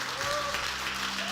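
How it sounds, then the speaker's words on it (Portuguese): A church congregation applauding together during a worship service, a steady dense wash of clapping with a faint sustained tone running underneath for the full short stretch. "Fica de pé e já aplauda o Senhor."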